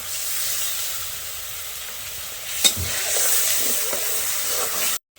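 Spices and vegetables fry in a pan for a potato-cauliflower curry, giving a continuous close sizzle with scraping stirs and a sharp clank midway, loud and steady until it cuts off at the end.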